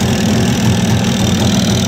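A Jawa 350 638 motorcycle engine, warmed to operating temperature, idles at its lowest setting with a steady, loud, close churning note and a suspected piston knock.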